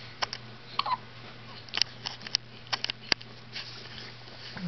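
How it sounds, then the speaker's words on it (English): A baby girl hiccups repeatedly, a string of short, sharp hiccups at irregular intervals, close and fairly loud over a quiet room hum, with no talking. "You got the hiccups, baby girl?"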